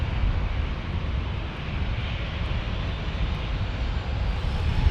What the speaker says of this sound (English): 787 Japan Airlines Dreamliner